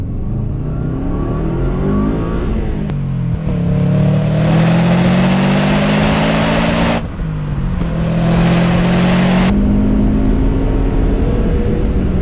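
Tuned Subaru Impreza WRX with software optimization accelerating hard, engine rising in pitch through two strong pulls with a gear change between, loud and close from inside the car.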